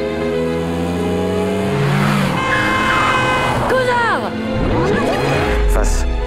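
A car engine revs and accelerates hard, its pitch sweeping up and down in steady loud pulls, with a brief tire squeal near the end.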